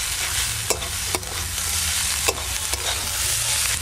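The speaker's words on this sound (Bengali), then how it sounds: "শাকটা কিন্তু খুব ঝরঝরে করে ভাজা হচ্ছে, এই দেখুন।" Mustard greens frying dry in a pan, a continuous close sizzle broken by several sharp scraping stirs of the spatula.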